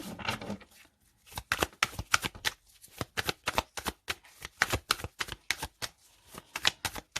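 Tarot cards are shuffled and cut by hand: rapid riffling bursts and crisp slaps repeat in quick clusters, close and fairly quiet, with no talk.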